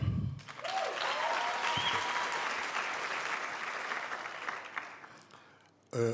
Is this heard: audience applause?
yes